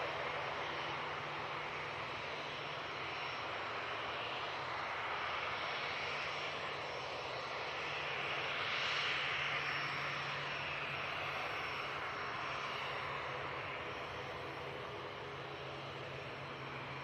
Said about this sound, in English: And this Bombardier Challenger.